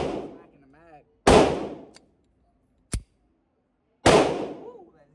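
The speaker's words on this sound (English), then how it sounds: "We're gonna mag dump the 40." A .40 caliber pistol fires at a shooting range, producing three loud, sharp reports spaced about a second or more apart, each followed by a ringing decay, with a smaller metallic snap in between.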